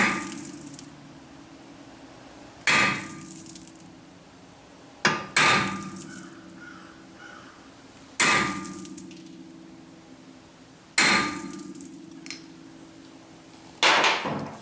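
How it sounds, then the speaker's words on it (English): A hammer strikes a drift punch against a rivet on a C3 Corvette Stingray brake rotor, five sharp metallic blows spaced a few seconds apart, each ringing briefly before fading, close and alone. "The first thing I'm going to do is take a drift and basically put a starting point in for the twist drill."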